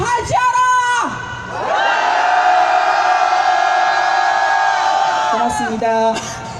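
At a Wednesday protest rally over Japanese military sexual slavery, held toward the Japanese embassy, a large crowd lets out a long, loud collective shout. Amplified voices come before and after it.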